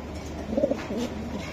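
Racer pigeons give a short, soft, low cooing call close by over a quiet background hum.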